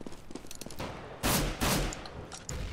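Bursts of automatic rifle fire in CS:GO, several loud, close rapid volleys of shots separated by short pauses, with no talking over them.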